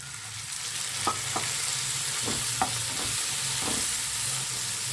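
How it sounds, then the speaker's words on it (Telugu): Tomatoes frying in a pan for banana flower curry, a steady hiss of sizzling with a few scraping strokes of a spoon stirring through it, close and fairly loud, no voices. "కొద్దిగా వేగంగానే టొమాటోస్ వేయండి ఫ్రెండ్స్"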